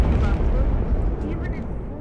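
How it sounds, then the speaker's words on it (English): An explosion from a modded gun in Minecraft: a continuous heavy low rumbling blast fills the whole moment, loud and dense, with a slow tail-off toward the end. "I mean, it's explosion."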